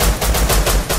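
Rapid automatic gunfire in the survival game Rust, a loud, close burst of about five evenly spaced shots filling a single second, with no voices.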